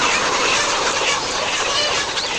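A dense crowd of layer hens fills a farm shed with continuous overlapping clucks and squawks, a steady loud chorus with no single bird standing out.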